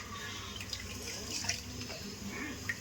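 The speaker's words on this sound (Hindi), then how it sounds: "इधर पानी भर रहा है" Water filling from a kitchen tap while chhole chawal is being prepared: a faint, steady splashing trickle with small drips and clinks, with low household noise in the background.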